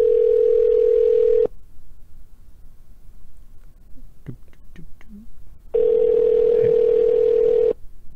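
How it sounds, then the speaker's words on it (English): Phone call being placed, with a loud steady ringback tone for about a second and a half, a quiet pause with faint clicks, then a second long ring tone, no talking over it. "And it's ringing."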